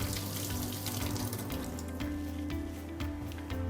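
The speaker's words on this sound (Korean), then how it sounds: "흐르는 물에 깨끗하게 씻을게요" Running tap water pours steadily over a lemon being washed at a kitchen sink, a continuous close splashing wash with no talk.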